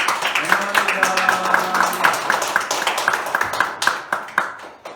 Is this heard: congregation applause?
yes